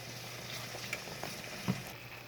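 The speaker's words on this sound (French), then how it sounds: "I'm still boiling the onion" An onion boils in a pot of water alongside a plantain and kidney bean dish. It makes a quiet, steady bubbling hiss with a few soft pops.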